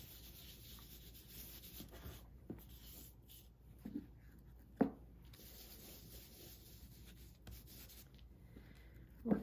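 Wax is rubbed by hand into faux leather made from file folder paper, giving a soft continuous scratchy rubbing, close and quiet, with a few sharper scuffs along the way.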